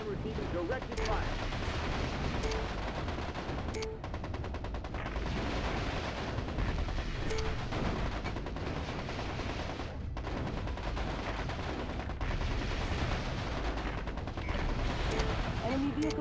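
Dense, continuous weapons fire and explosions in the video game MechCommander Gold, with heavy rumbling barrages and rapid bursts layered throughout, loud and unbroken, with occasional brief radio-style voices over it.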